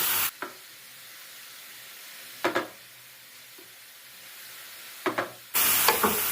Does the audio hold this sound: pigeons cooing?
no